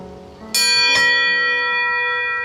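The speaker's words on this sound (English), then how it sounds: "just await the sound of the doorbell" A doorbell rings out twice in quick succession, two bright chimes close by, their tones lingering and slowly fading.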